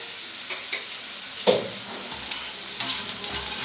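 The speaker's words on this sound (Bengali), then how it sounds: "আমি তেলের মধ্যেই হলুদটা দিলাম" Onions frying in hot oil with turmeric give off a soft, steady sizzle, with a few brief stirring clicks and scrapes, close by and fairly quiet.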